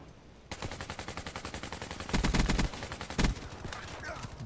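Rapid automatic gunfire in Black Ops III, with a steady stream of shots and louder, denser bursts partway through and near the end, loud and close with no talk.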